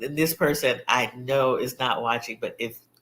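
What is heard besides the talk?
None of the usual background noises is heard.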